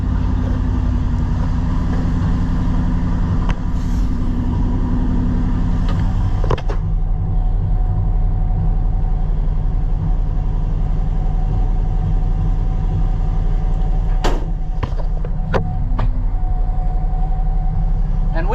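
A Ford L-Series truck engine rumbles loud and low, running roughly and short of fuel, a continuous heavy drone heard close up with a few clunks and knocks along the way.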